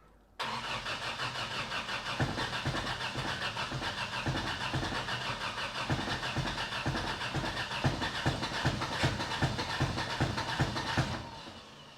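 A turbo-swapped project car's engine cranks on the starter for about ten seconds without catching, a loud, close, steady rhythmic churning that starts abruptly and stops near the end.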